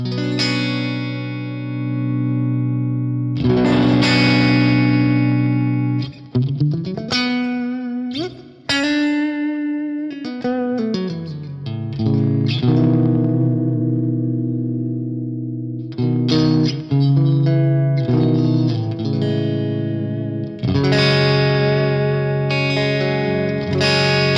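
Electric guitar through a Hughes & Kettner Tubemeister 18 tube amp with the gain cranked up, playing sustained distorted chords and notes with a thick, gritty tone and some echo.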